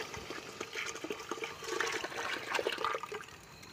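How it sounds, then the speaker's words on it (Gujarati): Thick liquid paste of gram flour and sour buttermilk pours into a pot of Kathiawadi drumstick curry, giving a continuous close gurgling, splashing stream for several seconds with no talk. "ચાલો બેસનનો અને ખાટી છાશનો લિક્વિડ પેસ્ટ આપણે સરગવાની કઢીમાં ઉમેરી દઈએ"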